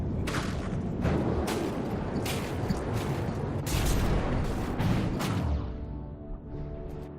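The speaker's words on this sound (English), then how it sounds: "Shots being fired towards the light tank." Heavy artillery fire in the naval combat game From the Depths, a dense barrage of booming cannon shots and blasts aimed at a light tank, loud and continuous with overlapping impacts and no talking.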